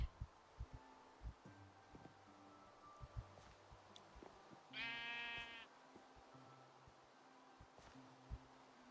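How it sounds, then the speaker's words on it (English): A single sheep bleats once in Minecraft, a short wavering cry in the middle, while soft footsteps and scattered game sounds patter quietly around it. "Much easier to get the baby sheep in there than the full-grown one"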